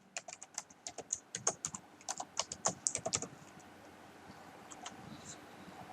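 Password being typed on a computer keyboard during an online company registration form, a quick run of close, crisp key clicks in bursts for the first half before tapering into a few scattered taps over faint room noise.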